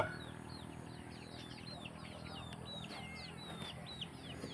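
A flock of young chickens and roosters clucks and chirps in overlapping, busy calls, quiet and somewhat distant, with no one talking.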